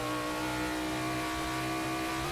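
Sim racing cars battle closely on track, engines droning loud and steady with layered overlapping tones and no break.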